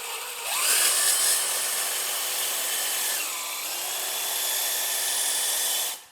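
A DeWalt DCD996 cordless drill driving a titanium bit into material at full speed, a sustained whirring drone with a pitch dip partway through, close and ending abruptly as the trigger releases.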